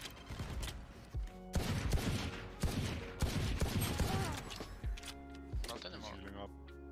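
Rapid gunfire bursts in the tactical shooter Valorant, with sharp repeated shots and explosive hits in clusters, loud and close, while a player talks over the action.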